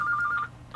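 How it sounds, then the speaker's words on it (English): A telephone rings close by with a warbling electronic tone, one burst lasting about half a second before it cuts off, then another starts at the end. "I apologize for the phone."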